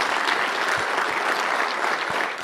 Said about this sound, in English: Give those guys a round of applause,